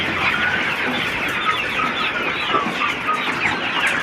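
Dense, continuous high chirping from a crowd of chicks fills the space as they jostle for feed on a poultry farm, steady and close with no talk.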